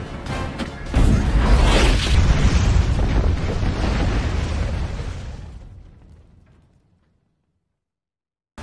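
A loud, close grenade blast erupts with a roaring rumble that slowly fades out over several seconds into silence.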